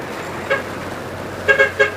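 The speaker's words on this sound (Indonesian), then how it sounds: "Ya ini ada bus pariwisata." A tour bus on an Indonesian road sounds its horn in short bursts, one toot and then a quick cluster of three, over a steady low engine rumble and road noise.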